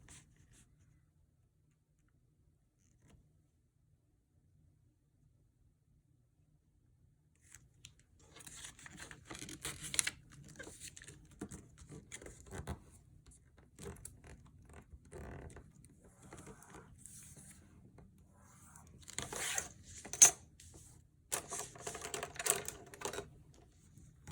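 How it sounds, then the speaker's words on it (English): Paper is folded along a ruler for a junk journal pocket in an altered book. After a long silent stretch come dry rustles, creases and taps, with scattered louder crinkles near the end. "from this point here to over here we're going to go ahead and fold"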